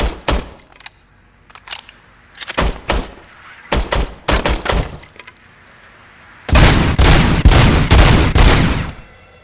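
Rapid bursts of service-weapon gunfire on a firing range in Robocop: Rogue City, sharp loud cracks in short clustered volleys, then a dense sustained stretch of shots with debris and clattering, no talking.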